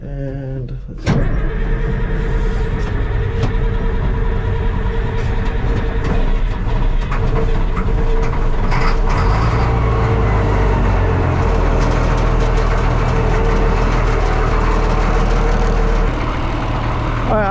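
A 50-year-old large wheel loader's diesel engine cranks and catches, then runs at a loud steady idle while warming up in snow, with a deep rumble throughout.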